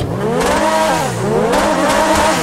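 A Lamborghini engine in the video game GTA 5 revs hard, its pitch rising and falling in smooth sweeps, loud and continuous throughout with no talk.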